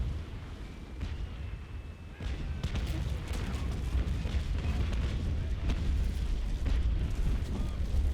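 Ship cannon broadside in the naval game Naval Action Legends aboard the Essex, a rolling series of heavy booms and bursts blending into a continuous rumbling barrage, loud and sustained throughout.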